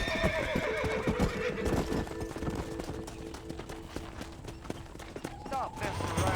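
Horse neighs and whinnies mixed with clip-clop hoofbeats in Red Dead Redemption, with a dense, busy game soundscape and voices talking throughout.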